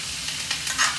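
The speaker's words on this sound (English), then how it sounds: "My butter is all melting and froth." Butter melting and frothing in a hot pan while strip steaks are basted, a close, dense crackling sizzle with brief swells of spooning and spattering, no voices.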